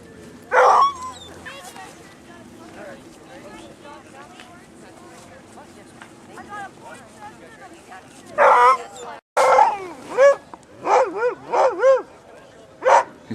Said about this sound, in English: Hey, there's Madison and a dog sled team.